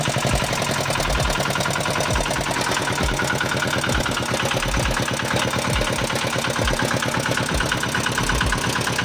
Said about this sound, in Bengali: আমি ইঞ্জিনটা স্টার্ট করে দেখাই